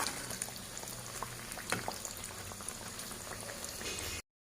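Pinwheel samosas deep fry in hot oil, giving a steady close bubbling and crackling with scattered pops, fairly faint, before cutting off abruptly.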